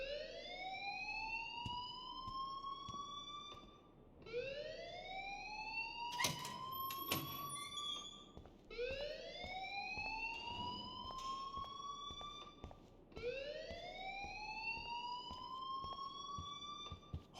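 An alarm repeats in the video game Life Is Strange, a rising wail sweeping up in four long cycles of about four seconds each, loud and steady with brief clanking sounds between.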